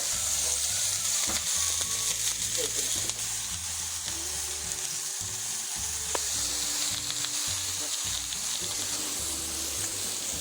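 A giant Macrocybe titans mushroom grilling with olive oil sizzles in a constant, moderate hiss, with a low humming drone and occasional faint clicks underneath.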